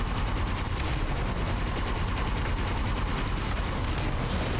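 Dense, continuous gunfire and explosions from the video game Halo: Campaign Evolved, a loud, unbroken rattle of shots and blasts filling the whole stretch with no speech.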